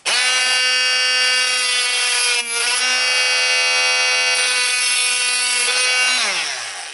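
A saw rasps through a Japanese knotweed pan pipe in one continuous loud pass of about seven seconds, with a strong ringing tonal whine that drops in pitch at the end.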